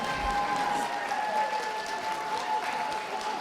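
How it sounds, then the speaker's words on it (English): Audience applause at the WELKS 2014 dog show as dogs leave the ring, a moderate steady clapping heard from a distance, with a faint tonal whine running underneath. "Give them a big round of applause,"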